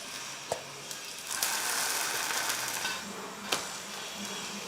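Dosa batter frying on a hot griddle, oil drizzled over the top, giving a steady broad sizzle throughout with a few sharp clicks and taps, close and moderately loud, no talking.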